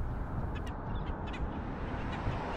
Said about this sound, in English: They're very noisy, squabbling with each other all the time.